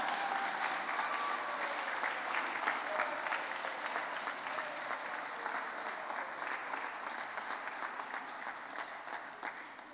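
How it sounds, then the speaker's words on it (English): Sustained applause from a school ceremony audience honoring Boston Public Schools students at a Teacher of the Year announcement, a steady dense wash of clapping at even loudness throughout, tapering slightly at the end. "Can we give our students another round of applause?"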